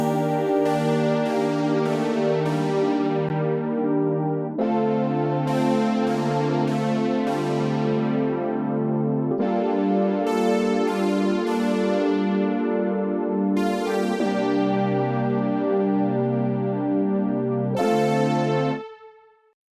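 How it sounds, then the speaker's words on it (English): Sustained synthesizer chords of a modern G funk beat, rich harmonic pads changing every couple of seconds in a steady loop, loud and close with no talking, fading out at the very end. "So then with the chords, this is how it sounds like."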